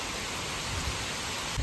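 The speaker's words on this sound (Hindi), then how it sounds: "और बारिश लिटरली इतनी तेज हो रही है ना" Heavy rain pours down in a steady, dense hiss with soft low thuds of water hitting surfaces, continuous and loud throughout with no speech.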